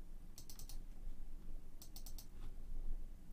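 Computer mouse clicking in two quick bursts of four sharp, light clicks each, close and quiet over a low steady background hum.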